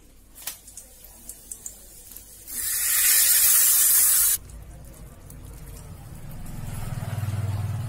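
Mustard seeds, fenugreek, shallots and curry leaves tempered in hot oil for Nagercoil-style chakkai pulikari, a loud bright hiss of sizzling that flares for a couple of seconds and then settles into a softer low crackle.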